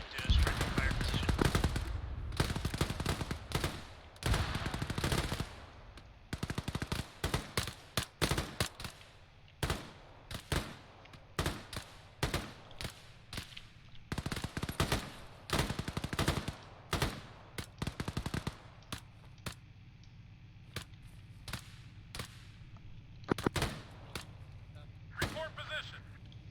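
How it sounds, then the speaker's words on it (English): Gunfire in the military game Arma 3 crackles in sharp bursts and scattered single shots over nearly half a minute, some loud and close, others more distant, with quieter stretches between volleys. "Engage, suppressing fire, suppressing fire."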